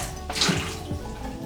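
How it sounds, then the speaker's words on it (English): Water runs from a kitchen faucet into a sink in a steady, close, broadband splash that lasts the whole brief moment. "I come to the sink and I turn on the faucet. Now the water is running."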